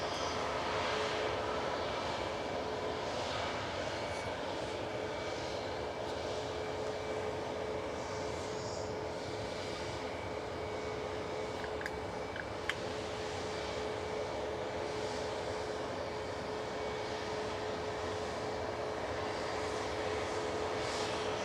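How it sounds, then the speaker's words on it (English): A Ryanair airliner departing Manchester Airport for Murcia produces a continuous, even engine roar with a thin high whine on top, steady and moderately distant throughout, with no talk. "Ryanair 4116 to Murcia going next"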